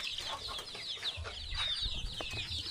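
Chickens cluck softly in quick, scattered bursts, somewhat distant, over a faint low background hum.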